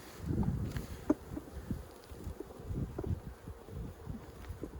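Honey bees buzz steadily around an open hive during queen rearing, a dense low hum with individual bees passing close to the microphone, light wind and rustling underneath.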